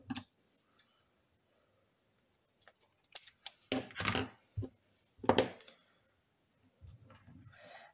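Scissors snip through straw for craft embellishments in a series of sharp, close clicks and crisp cuts, scattered in short bursts with quiet gaps between them.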